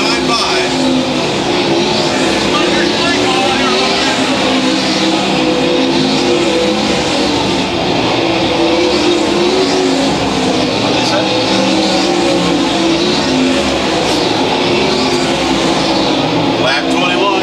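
Sprint cars of the ASCS Warrior division race at Lakeside Speedway, engines roaring steadily and loudly throughout as the pack circles the dirt track, with passes rising and falling under continuous race commentary.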